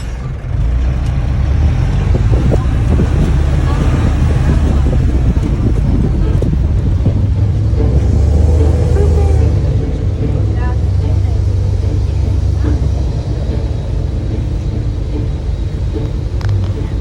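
An amphibious bus on a ride in Salzburg gives a steady low engine rumble mixed with wind buffeting on the microphone, while people talk over it.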